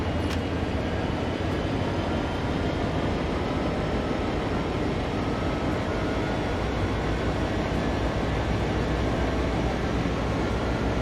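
A train rolling along a valley line in Train Sim World 2 on the Sand Patch Grade route, a steady, loud, unbroken rumble and drone of engine and wheels with no pauses.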